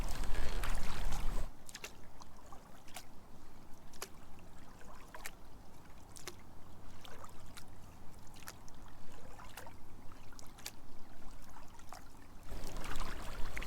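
Kayak paddle strokes dip and splash in a steady rhythm, each a short close watery swish over a low background hum, with louder movement at the start and end and no talking.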